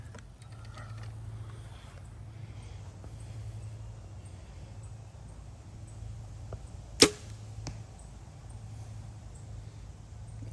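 A single sharp arrow impact on an archery target rings out once, near and crisp, against a quiet outdoor background with a low steady hum.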